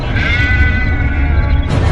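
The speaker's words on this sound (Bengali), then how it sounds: "শুনতে পেল ছাগল ছানার চিৎকার" A baby goat gives one loud, close, sustained bleat that wavers in pitch, used as a sound effect in an audio drama.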